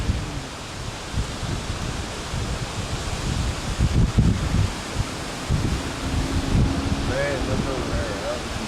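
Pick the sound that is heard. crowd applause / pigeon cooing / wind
wind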